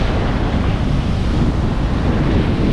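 Rough ocean surf at Haulover Beach, a loud, continuous wash of breaking waves mixed with heavy wind buffeting the microphone, with no talk over it.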